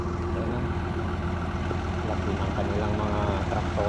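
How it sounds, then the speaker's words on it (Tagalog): A large tractor engine idles at a Barolo grape vineyard in Italy with a steady, low, throbbing rumble close by. Someone talks over it. "laki ng kanilang mga traktora, oh"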